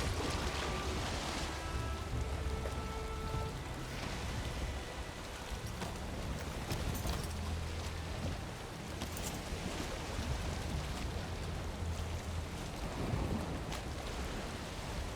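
A sailing boat moves across ocean waves in Valheim, with steady washing surf and wind filling the background, continuous and moderately quiet, with no voices.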